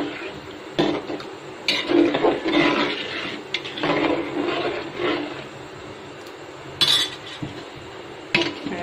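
A lid goes onto a cooking pot of meat for biryani: scattered metallic clanks and knocks of cookware, with a brighter clang near the end over a low kitchen background.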